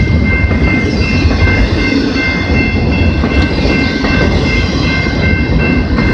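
CP 234, a Canadian Pacific freight train, passes at close range on the Galt subdivision at Maitland Street in London, Ontario, a loud, steady rumble of rolling cars with faint metallic squeals and clatter throughout.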